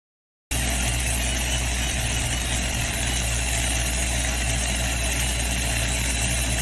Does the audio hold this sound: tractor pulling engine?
yes